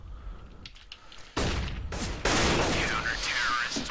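Gunfire in a Counter-Strike match on de_mirage rings out as dense bursts of loud shots, starting faint and swelling into sustained, near fusillades over a background of game noise.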